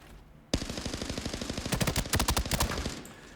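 A CZ BREN 2 automatic rifle firing in Arena Breakout Infinite, a fast continuous burst of close, loud rapid shots at a 750 rate of fire, starting abruptly and running for about three seconds.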